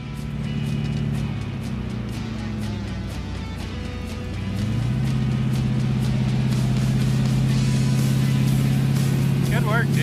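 An old dually truck drives while pulling a trailer, its steady low engine drone holding close and loud, rising slightly in pitch partway through as it picks up speed, with people talking over it.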